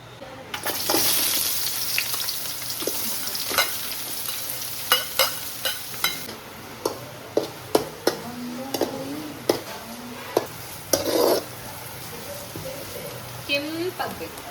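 Onions sizzle in pure coconut oil in a pan while a spoon stirs and scrapes with irregular sharp clinks and knocks over a steady frying hiss, with faint talk in the background.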